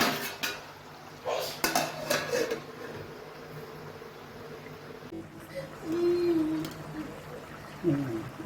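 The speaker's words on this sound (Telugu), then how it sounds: "మూత వేసేద్దాము" A lid clanks onto a pot of drumsticks (munakkaya) simmering for a tamarind stew, with several clattering metal knocks of pot and utensils in the first seconds and another close clink near the end.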